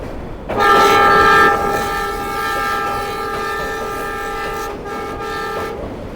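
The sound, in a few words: diesel locomotive horn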